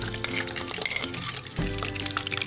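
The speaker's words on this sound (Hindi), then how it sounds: "अब हम इसमें प्याज डालेंगे" Onions dropped into hot oil in a pan for fried rice, giving a busy crackling sizzle with scattered pops and a louder burst partway through, heard close with faint room sound.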